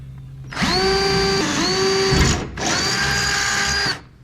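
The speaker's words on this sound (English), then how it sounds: "We're gonna take our 3/16 inch drill bit. We're gonna hit that reference line" An electric drill with a 3/16 inch bit whines loudly in two steady bursts close by, boring through an aluminum jon boat, with a brief pause between them and a change in pitch as it bites.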